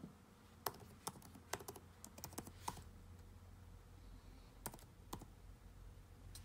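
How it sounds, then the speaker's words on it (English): Password typed on a Lenovo Chromebook keyboard: faint, quick key clicks in short bursts with brief pauses, close but quiet against low room hum. "So you've gotta put in your password now when this pops up."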